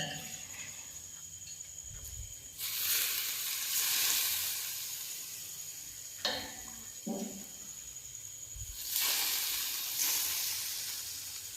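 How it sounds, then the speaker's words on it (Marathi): Frying ingredients for a Khandeshi raw mango pickle sizzle in hot oil in a home kitchen. Two loud, bright bursts of hiss flare up, with a short crackle between them, over a quieter, steady background sizzle, and no one speaks. "हे छान मस्त चरचर आवाज पण येत आहे सगळं फ्राय होत आहे"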